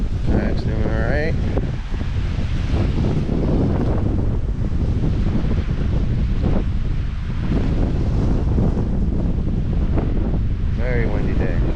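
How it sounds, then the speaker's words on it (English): Strong wind buffets the microphone at an island campsite on the Florida coast, a loud continuous roar with gusts over lapping water, while a person talks intermittently. "Very windy day."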